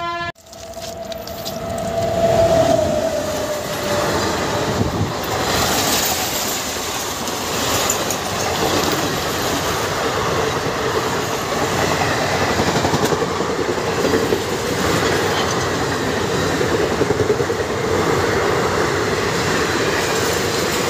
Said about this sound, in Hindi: सब नई दिल्ली की ट्रेनें हैं।